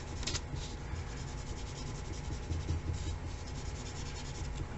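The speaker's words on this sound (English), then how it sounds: "you can take your finger and rub it in to make it look nice and smooth" A finger rubbing over a pencil drawing of a skull on paper to smooth the shading, a close, continuous soft scraping and rubbing sound with no talking.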